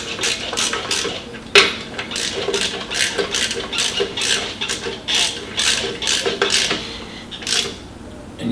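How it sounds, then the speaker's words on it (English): A ratchet with a 1/2-inch socket turning bolts on a 1972 IH Scout II Dana 44 axle, giving a run of rapid clicking bursts in an uneven rhythm, close and fairly loud, with no talk. "we're using a 1/2-inch socket."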